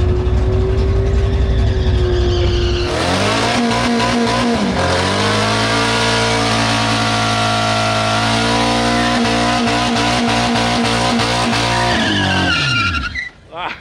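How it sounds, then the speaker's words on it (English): A Mazda Miata launches down a drag strip at the start of a run, engine revving hard, tires chirping, then pulling through rising gears with loud, close exhaust roar and a brief shift break before fading. "Let's see what the Miata can run."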